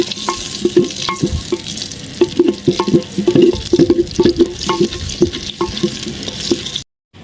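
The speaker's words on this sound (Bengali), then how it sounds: "এবার দিয়ে দিচ্ছি পেঁয়াজ কুচি, এগুলো আমি ভালো করে ভেজে নেব।" Chopped onions fry in a clay pot, with a steady sizzle under a run of quick scraping stirs that clatter close and loud, then stop abruptly near the end.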